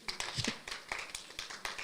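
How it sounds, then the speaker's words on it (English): A small audience claps after a discussion session, a faint, sparse patter of hands lasting under two seconds. "Can we give them a round of applause, please?"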